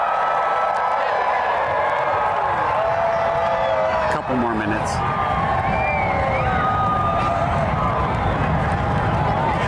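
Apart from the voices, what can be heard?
stadium crowd cheering at Saluki Stadium before eclipse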